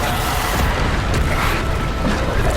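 Bombarda explosion spell being cast in Hogwarts Legacy, heard as a dense, sustained roar of blasts and rumbling debris, loud throughout with no clear gaps.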